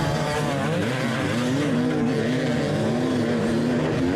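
Several dirt bikes roar off together at the start of a race on dry, rocky, sandy terrain, a loud continuous engine blare with rising and falling pitch from multiple bikes close by.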